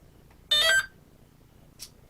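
A short burst of electronic beeping tones from the speed controller of an E-flite Extra 300 RC airplane arming, a quick tonal chirp, then a single faint beep after a pause, against near silence.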